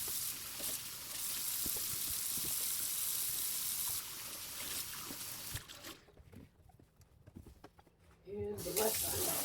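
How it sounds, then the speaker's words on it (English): A kitchen faucet running into the sink during a rinse-down after scrubbing with baking soda and dish soap, a steady close hiss of water that breaks off briefly and then splashes back in, with a person talking. "Rinse down with the faucet."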